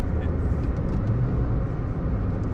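A Nissan K13 March Nismo S with a manual gearbox driving, its engine and road noise a steady, fairly loud drone from inside the cabin, no talk over it.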